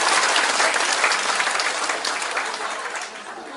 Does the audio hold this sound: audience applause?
yes